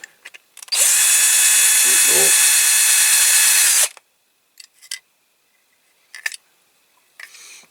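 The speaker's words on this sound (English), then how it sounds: "I'll start drilling into the base if I'm not careful" A loud, steady whine of a power drill boring into the die-cast metal base of a Matchbox King Size Scammell tipper toy runs for about three seconds, followed by a few short clicks and faint handling noises.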